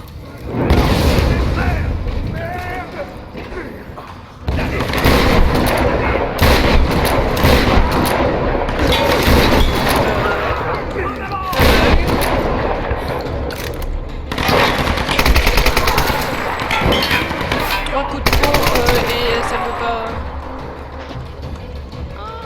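Gunfire and heavy booms from Tomb Raider game combat fire in dense, loud bursts with brief pauses, while players talk over the shooting.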